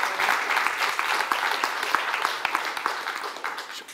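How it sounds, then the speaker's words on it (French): Audience at a French-language conference applauds a presenter, a moderate round of clapping with individual claps standing out, thinning slightly toward the end. "Je pense qu'on peut applaudir Amandine pour ça."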